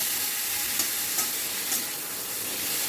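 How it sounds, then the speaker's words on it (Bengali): Soaked lentils stirred and sautéed in a hot pan, a steady broadband sizzle and hiss with a few soft scraping strokes of the spoon, close and continuous with no talking. "ডালটা দিয়ে এবারে আমি সব কিছু ভালো করে মিশিয়ে নেব, মানে ডালটাকেও একটু কষিয়ে নেব।"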